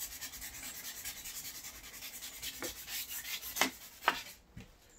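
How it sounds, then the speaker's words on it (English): Hand sanding of wooden furniture along the grain, heard as a steady, close scratchy rubbing that builds into a few sharper strokes near the end, with no talking. "sand in the same direction as the wood grain, so that we don't get any cross scratches across your wood"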